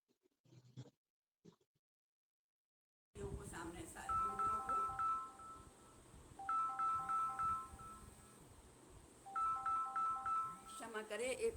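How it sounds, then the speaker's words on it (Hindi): A phone ringtone plays a repeating electronic melody in three bursts over steady background noise, after a brief stretch of quiet speech at a yoga session. "क्षमा करें, एक फोन आ गया है जरा।"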